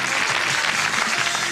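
Audience applause fills the room with steady, even clapping, moderately loud and continuous throughout, with no voices over it.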